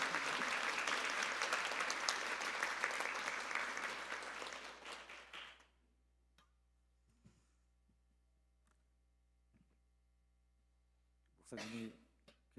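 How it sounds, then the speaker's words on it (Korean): A church congregation gives loud, sustained applause during a Sunday anniversary worship service. The dense clapping fades out after about five seconds into a quiet room with a low hum, faint ticks and one brief later sound. "여러분들 뜨거운 박수로 우리 환영합시다"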